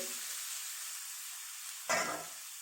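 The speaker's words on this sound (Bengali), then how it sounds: "এই যে পেঁয়াজগুলোকে দিয়ে দিলাম, দিয়ে পেঁয়াজগুলোকে ভাজবো।" Onions frying in a pan for a Bengali katla fish dish give a soft, steady sizzle, with a brief louder burst of hissing near the end, no voices.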